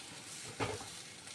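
An egg fries in a pan with a faint, steady sizzle throughout, broken by one brief louder burst partway through, with no talking.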